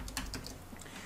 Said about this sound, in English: And you can start typing in something